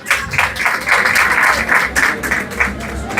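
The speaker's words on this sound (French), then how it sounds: "Je vous demande d'applaudir encore une fois Ariana." An audience applauds for Ariana, with dense continuous clapping from a crowd filling the whole stretch, loud and close with steady ripples of intensity.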